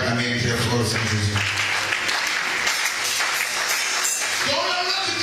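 A church congregation claps loudly and steadily through a sermon, a broad, sustained wash of applause with voices mixed in and a tonal sound near the end.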